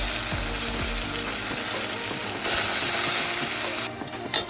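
Soaked moong dal (split yellow lentils) fries in hot oil with chopped green chillies, giving a steady, close sizzle that continues without a break.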